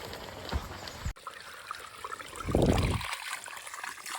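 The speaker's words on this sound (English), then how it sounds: "we're pumping a big stream of water" Water gushing from the hose outflow of a Smart Bot 2800 pump draining a spring, a soft outdoor trickle and splash with a brief louder surge near the end, alone and fairly quiet.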